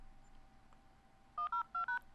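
Four quick touch-tone beeps sound as a telephone number is keyed in, evenly spaced near the end over faint room hiss, with no talking.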